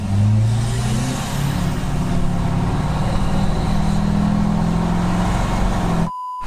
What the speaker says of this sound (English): Looks like somebody brought out their drag car today.